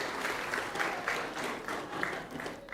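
Short burst of applause from graduates at a college baccalaureate ceremony, fairly soft and distant, clapping in uneven pulses for a few seconds.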